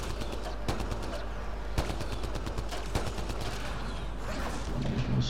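In a Mass Effect Andromeda multiplayer match, bursts of gunfire snap and crackle repeatedly over a steady droning battle backdrop, with several sharp louder shots standing out amid continuous weapon noise.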